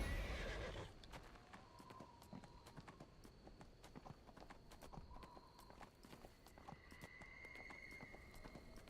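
Horse neighing in the Neverwinter video game, several drawn-out whinnies over a steady run of clip-clopping hooves, fairly close and moderately loud, with no talking.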